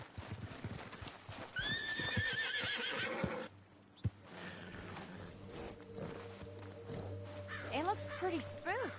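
A spooked white horse in the video game Red Dead Redemption 2 gives a loud whinny early on and several shorter neighs later, with hoof clip-clops and someone speaking calmly between them.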